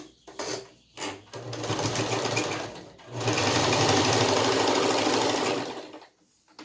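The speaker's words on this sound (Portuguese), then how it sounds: "Vamos passar uma costurinha só pra prender isso daqui no lugar" A sewing machine stitches a short support seam to hold fabric in place on a Tilda cow doll, loud and close, running in two sustained bursts after a few brief stop-start taps, ending in quiet.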